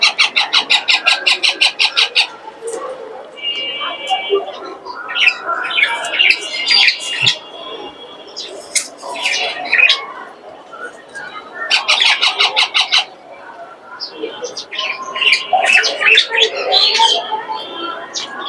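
Green parakeets for sale give loud, harsh squawks and chattering calls in repeated bursts, close to the recorder, with people talking among the birds.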